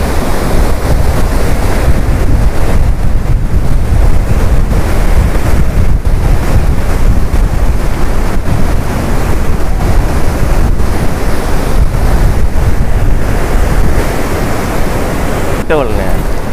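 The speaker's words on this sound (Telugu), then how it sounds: "వాటర్ చూడు, అబ్బా ఎంత సౌండో" Loud, steady rushing of river water at a barrage under construction on the Penna river, a continuous broadband roar filling the whole stretch without pause, close and powerful.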